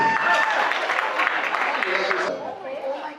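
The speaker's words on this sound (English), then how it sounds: "Keep clapping for Flora, everyone." An audience applauds for Flora at an annual charity dinner, steady clapping filling the room with a dense wash that thins near the end while a voice carries over it.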